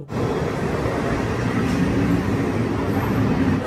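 Sealdah railway station in Kolkata is busy at platform 12, where the Sealdah–New Delhi Rajdhani Express stands, filling the air with a constant, even rumble of crowd and rail noise without clear individual events.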